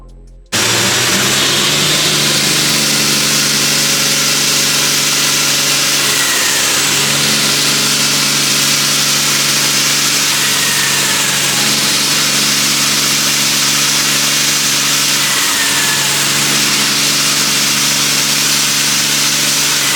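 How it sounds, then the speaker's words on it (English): A Nissan R32 GTR fitted with a 3.2-litre billet block engine runs steadily on a dyno, a loud, continuous mechanical drone with a sustained hum and no speech throughout. "we were able to put it on the dyno and start some testing and tuning"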